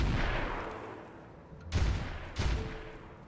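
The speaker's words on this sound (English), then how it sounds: "So we're trying to seek some crits on the Vulcan with 32 clan mortars." Clan mortars fire in the Roguetech mech video game as a rumbling barrage that fades, then two heavy, booming thuds follow close together.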